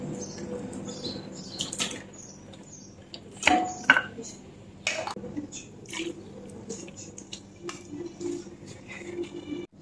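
A ladle scrapes and clinks against a pot and bowl while cooked mutton paya, lamb trotters in gravy, is served, with scattered wet plops and a few sharper metallic knocks, close and fairly quiet, with someone speaking now and then.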